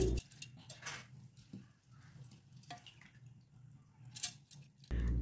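Soaked rice is drained into a mixer jar: faint drips and small wet splashes come in a few scattered bursts over a quiet background.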